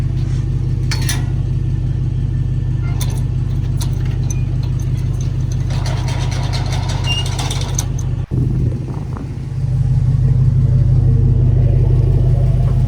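A dumpster truck's engine runs steadily, heard from inside the cab as a loud, close rumble with faint mechanical clatter and a brief dip near the end.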